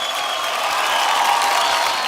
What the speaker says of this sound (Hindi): लेडीज एंड जेंटलमैन, एक बार जोरदार तालियां नेहा डूपी अगले हो जाएं